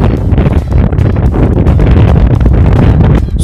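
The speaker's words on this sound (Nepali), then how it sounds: "यहाँ यस्तो हावा चलिरहेको छ नि" Strong wind buffets the microphone on a hilltop at Ghalegadi, making a loud, continuous rumbling roar with gusty surges throughout.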